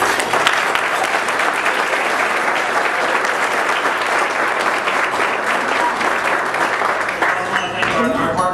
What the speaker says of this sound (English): just give them a round of applause for it